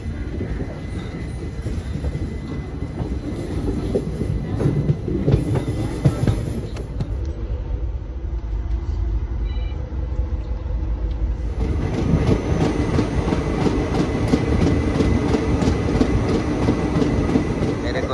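A Sambalpur Express passenger train runs along the track near Old Delhi station, heard from inside as a steady rumble with rhythmic wheel clatter that grows louder and fuller midway, with faint voices in the background.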